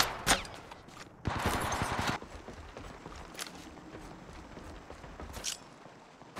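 Gunfire in the mobile battle royale shooter Apex Legends Mobile, a fairly faint run of rapid shots lasting about a second, surrounded by scattered single cracks and quiet game ambience.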